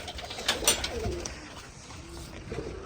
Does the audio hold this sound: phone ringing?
no